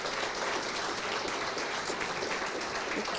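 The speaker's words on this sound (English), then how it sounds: "Let's please give them another round of applause." Sustained applause from an audience honoring gold award recipients at an anniversary ceremony, dense steady clapping filling the whole stretch with no pauses or voices.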